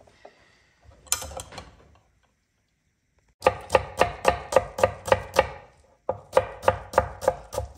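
A knife chops onion on a cutting board in a few brisk bursts of sharp, evenly spaced close knocks, separated by short pauses.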